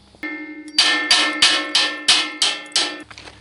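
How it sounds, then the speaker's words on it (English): Metal weld being struck with a picker to knock out slag: seven sharp, bright metallic taps in an even rhythm, close and loud with ringing tails, no talk. "hammer it a bit with the picker and see if I can get that slag out"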